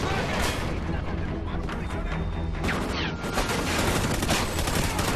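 Intense gunfire in Call of Duty Ghosts during a campaign battle: rapid automatic bursts and crackling shots overlapping in a loud, continuous barrage, with a voice talking over the combat.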